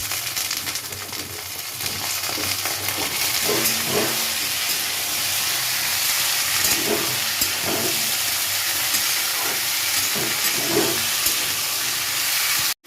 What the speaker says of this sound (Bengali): আর এখন এই অবস্থাতেই আমাকে ডাঁটার আলুটা তেলেতে দিয়ে দিতে হবে।